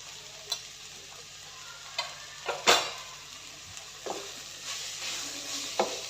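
Bitter gourd curry with onion-garlic masala and garam masala is stirred in a pan, a soft low sizzle punctuated by a handful of sharp spatula clinks and scrapes, quiet and close.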